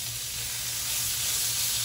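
Meat frying in a hot pan for Vietnamese banh xeo gives off a loud, steady, close sizzle that barely changes, with no talking.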